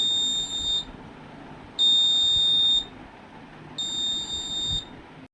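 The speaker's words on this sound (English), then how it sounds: "It will show duplicate vote buzzer on." Buzzer on an Arduino-based biometric fingerprint voting machine signalling a duplicate vote, sounding three shrill electronic beeps of about a second each, evenly spaced over a low background hum.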